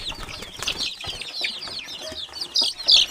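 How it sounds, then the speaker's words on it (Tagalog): Chickens and chicks cluck and peep close by, with brief wing flapping and rising chirps that grow louder toward the end; no one speaks. "Daming sisiw."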